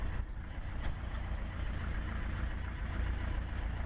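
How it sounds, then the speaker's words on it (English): A Continental aircraft engine idles with a steady, low, rumbling drone that holds constant throughout, close and moderately loud, with no talking. "We'll let the Continental engine run for just a second, let it get its bearings"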